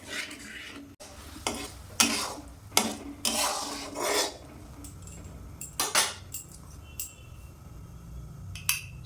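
Pabda fish in mustard sauce is stirred in a pan over a high gas flame, with repeated scraping and rasping strokes of a utensil against the metal, some louder than others, set against a faint sizzle.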